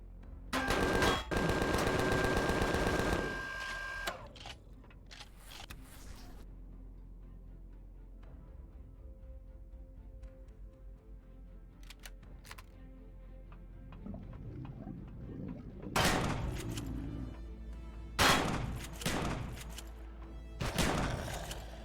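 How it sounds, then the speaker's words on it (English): Shotgun fire in the space survival game Empyrion Galactic Survival: a loud roaring blast burst at the start, then a quieter stretch of faint tones, followed by several more heavy booming shots toward the end. "shotgun to the face"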